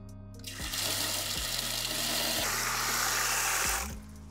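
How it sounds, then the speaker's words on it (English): A bucket fills with water outdoors for hydro dipping, a loud, steady gushing stream from a tap that starts abruptly, runs continuously for several seconds, then cuts off near the end, with no talking. "I'm going to fill up this bucket with water outside."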